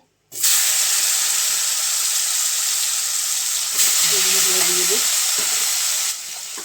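White brinjal slices frying in hot oil give a loud, steady hiss that runs almost the whole clip, with a brief low hum near the middle.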